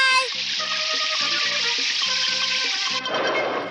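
Cartoon water effect from Ninja Hattori: a loud, steady rush of released water splashes continuously, with a bright tonal cartoon sound pulsing beneath it. The rush shifts to a different spray near the end.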